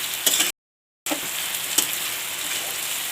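Spice paste for loitta (Bombay duck) fish jhuri fries and is stirred in a pan, a close, even sizzle with a few scrapes, cut by a brief silent gap.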